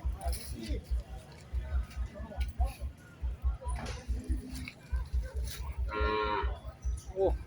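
Cattle moo repeatedly at an outdoor cattle and buffalo market in Ubon Ratchathani, Thailand, with low calls and a busy crowd murmur, and people talking nearby throughout.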